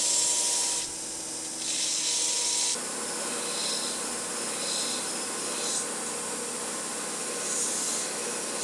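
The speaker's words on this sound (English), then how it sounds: "I use acetone to remove the excess glue." A cloth with acetone is rubbed along a knife handle to wipe off excess glue, making soft repeated scrubbing strokes close up with no speech.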